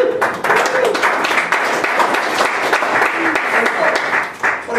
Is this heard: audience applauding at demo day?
yes